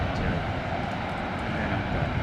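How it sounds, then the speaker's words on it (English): An Etihad Airbus A380 lands in gusty crosswind, a loud continuous jet engine roar with rumbling wind noise, heard steadily throughout. "Do the Etihad 380"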